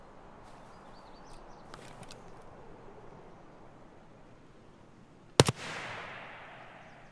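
A single sharp gunshot in Escape from Tarkov, loud and sudden after several seconds of quiet outdoor ambience, with a noisy echoing tail that fades slowly.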